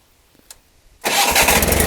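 A Wheel Horse 520 garden tractor engine fitted with a new Chinese carburetor starts after a short quiet pause, then keeps running at a loud, steady idle.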